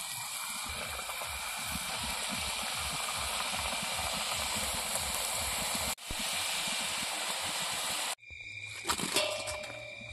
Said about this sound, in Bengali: মা দেখুন এখন লুচি ভাজতেছে